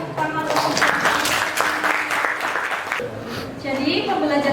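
Classroom applause during an Indonesian religious studies lesson, a burst of student clapping mixed with a teacher's voice and chatter, fading slightly before more talk.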